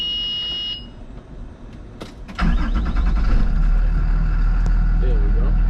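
A school bus engine cranks and catches after a key turn: quiet cabin with warning beeps, a couple of sharp clicks, then a deep steady idle rumbling on through the rest.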